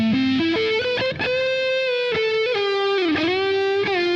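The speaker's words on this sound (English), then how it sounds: "the reverb is just like behind the original signal" Tonal, harmonic synth or instrument line processed through a reverb plugin, the effect trailing softly behind the dry signal; steady and loud with stepped pitch changes and sustained tails, no voices.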